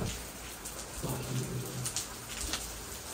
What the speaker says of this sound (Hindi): मैंने बोला था ना बारिश आएगी, बारिश आ गई गाइस